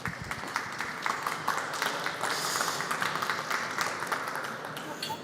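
Audience applause in a conference hall at the Tallinn Digital Summit, a steady patter of many hands clapping for several seconds, moderately loud and fairly even.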